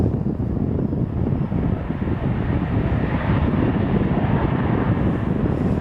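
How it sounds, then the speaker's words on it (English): Allegiant airliner landing at Nashville International Airport, a loud, steady engine roar close by with wind buffeting, no voices. "Here comes a landing. This is Allegiant."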